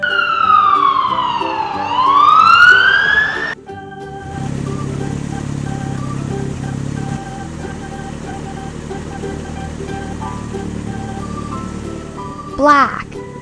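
Toy police car siren, a loud close electronic wail sweeping up and down, then switching to a steady warbling tone with a brief chirp near the end.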